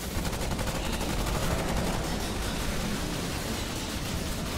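Sustained machine-gun fire in the video game Remnant, a dense, continuous roar of rapid automatic shots, steady and loud for the whole stretch with no talk over it.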